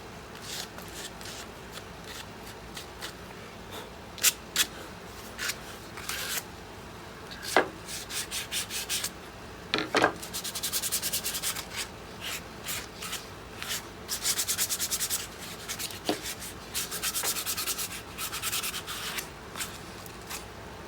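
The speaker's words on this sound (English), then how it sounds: "Just knocking off some of these sharper edges." Rough, rasping strokes of sandpaper rubbing the edges of a wooden bandsaw box, coming in short irregular bursts with brief pauses between them, close up and fairly quiet.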